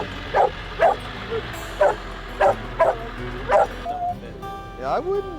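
Hunting dogs outdoors let out a string of sharp, close yips and barks at uneven intervals, followed by a few whining whimpers, with a voice faintly under them.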